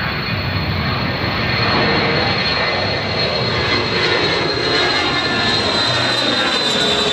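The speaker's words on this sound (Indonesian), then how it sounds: "Ada pesawat berwarna abu. Wah, ini pesawat Air Force." A grey military Air Force airplane's engine roars steadily and loudly, a continuous broadband drone with a high whine, holding level throughout with no voices.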